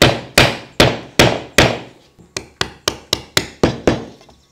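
A hammer strikes a chisel in sharp, close blows during a bathroom renovation: five heavy, evenly spaced hits, a short pause, then a quicker run of about eight lighter taps.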